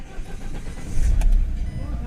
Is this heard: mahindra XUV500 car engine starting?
yes